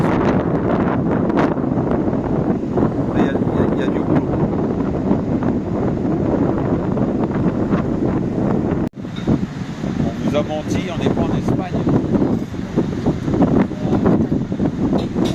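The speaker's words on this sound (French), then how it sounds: "Je sais que c'est pas agréable de regarder quand il y a du vent" Heavy wind buffets the microphone continuously in a loud, rumbling roar on a road trip toward Andalusia, Spain, with people talking underneath throughout.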